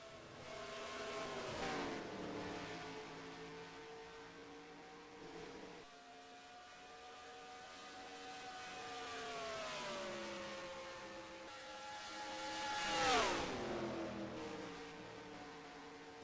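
Race cars in the AT&T Cup Series AT&T 300, engines revving close by with rising and falling pitch as cars pass and jostle for the lead, with one loud sweeping pass near the end.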